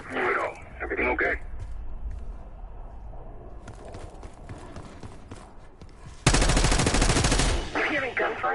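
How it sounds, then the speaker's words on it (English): Gunfire in the Black Ops 6 video game coming from the lower floors of a building: a loud, dense automatic burst lasting over a second, set against a low ambient game background with scattered thumps. "You hearing gunfire?"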